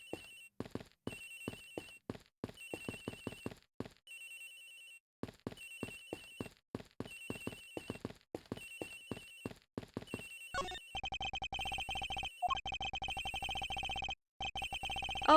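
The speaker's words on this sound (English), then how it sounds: "Agent Hicks' phone is ringing from somewhere, sir. I can hear it." A telephone rings in the Ace Attorney Investigations video game, repeated electronic ring bursts in a rhythmic pattern with short pauses, then shifting into a denser, continuous buzzing tone near the end.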